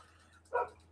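A single short dog bark, faint and somewhat distant, standing alone over a low steady indoor hum.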